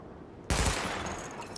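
Gunfire in a weapon test on targets in The Division erupts suddenly as a loud, dense burst of rapid shots after a short quiet, then tails off with a few scattered rounds.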